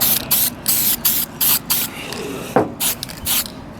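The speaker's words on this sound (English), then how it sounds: "Going to give it a quick lick of paint." Aerosol spray paint on a diff brace for a turbo BMW E36, hissing in a run of short close bursts, about eight quick sprays with brief pauses between them.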